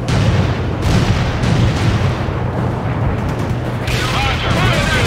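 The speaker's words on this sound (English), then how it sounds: "Grenade! Grenade!" A grenade blast in the World in Conflict war game booms out amid a dense, continuous wash of battlefield rumble and gunfire, loud throughout with no clear single peak, while radio-style voices call out over the fighting.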